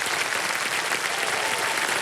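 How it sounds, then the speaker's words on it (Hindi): A television quiz show studio audience claps loudly for a contestant's family on Kaun Banega Crorepati. A brief, dense burst of applause stays even from start to finish. "एक बार जोरदार तालियां बज जाए उनके लिए।"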